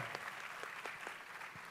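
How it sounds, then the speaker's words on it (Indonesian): Audience applause at the Endgame Town Hall forum in Indonesia, a steady wash of clapping from a crowd that holds level throughout, with a few sharper individual claps standing out near the front. "Tepuk tangan sekali lagi untuk Mas Gita Wirjawan"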